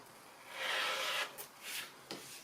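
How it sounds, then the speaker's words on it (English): Scissors trimming quilt fabric along a dotted line on a foundation-pieced block, heard as a soft, close rasping cut of about half a second followed by a few shorter snips, quiet and alone. "I'm just trimming on the dotted line at the moment because that's at the edge"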